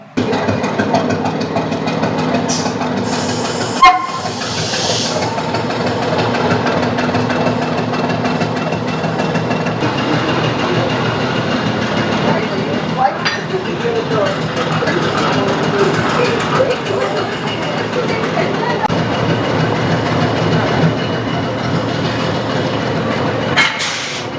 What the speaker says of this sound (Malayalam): അങ്ങനെ നമ്മുടെ ട്രെയിൻ റെയിൽവേ സ്റ്റേഷനിൽ നിന്നും പുറപ്പെട്ടിരിക്കുവാണ്